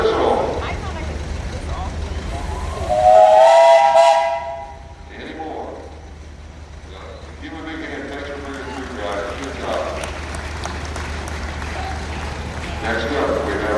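A steam traction engine's whistle sounds at an outdoor parade, a loud tonal blast lasting about two seconds, followed by a chuffing engine and people talking in the background.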